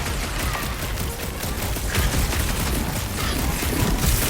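Dense, continuous gunfire rattles through a fight in Guardians of the Galaxy, the shots overlapping into a loud, steady barrage.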